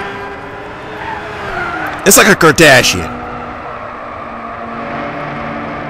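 A Lamborghini Aventador races in the Gran Turismo 6 video game, its engine droning and shifting pitch beneath a short burst of tire squeal, while a person talks over it.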